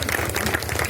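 Clapping from a poetry-recital audience at a patriotic kavi sammelan in Murtajipur, Barabanki; a short, steady burst of many hands clapping at close range, without talk over it.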